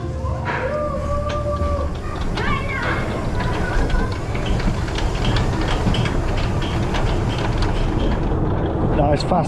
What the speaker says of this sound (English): Nice fast cable lift hill here on Expedition GeForce.